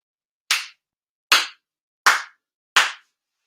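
Four sharp, sincere ritual hand claps at a Shinto-style New Year's worship ceremony, evenly spaced, crisp and close, each ringing briefly into silence with no talk.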